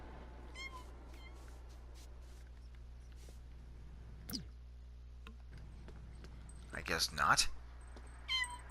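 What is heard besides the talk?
cat meowing in video game The Sims 4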